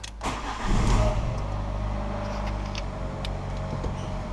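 A salvage Fiat 500's engine idles in a steady, close mid-pitched hum after a brief rev at the start, settling into an even, unbroken drone.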